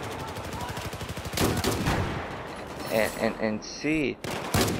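Rapid gunfire from a weapon in the video game Battlefield 4, a fast burst of shots up front followed by separate loud blasts, with someone talking briefly over it.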